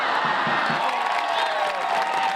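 A sellout crowd at a women's soccer match involving the Chicago Red Stars cheers in a dense, steady roar, loud and continuous across the stands with scattered whoops.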